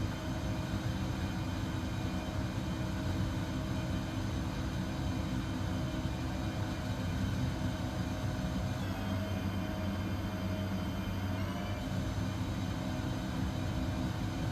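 Steady, droning jet engine roar from an XCrafts ERJ 145 in the X-Plane 11 flight simulator, continuous and even, with a slight tonal shift partway through and no talking.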